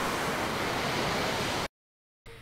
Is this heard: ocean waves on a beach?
yes